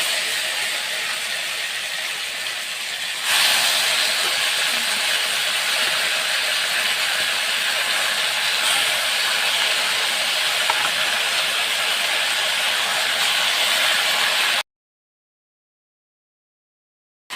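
Taro pieces dropped into a hot pan give a loud, steady, broad sizzle that jumps louder a few seconds in and holds evenly before cutting off abruptly.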